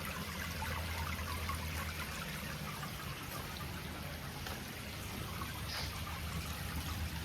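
Quiet, continuous trickling and splashing of water from a spray bar onto a pond surface, nearby and steady with small droplet patters, with no voices.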